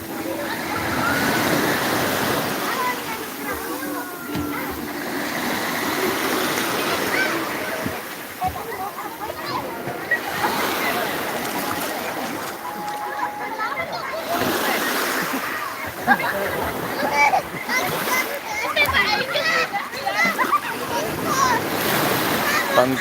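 Waves on Pantai Ponnori beach in Luwu, a continuous washing and splashing surf that rises and falls, with people talking over it throughout.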